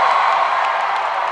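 A Saturday-night concert crowd in Las Vegas cheers and whoops in a loud, dense, continuous roar that fills the whole moment.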